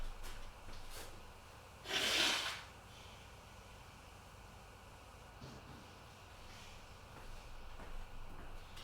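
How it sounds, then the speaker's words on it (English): A single short, forceful nose blow bursts out of an otherwise quiet indoor room, brief and close, with faint rustling before and after. "Just blow my nose."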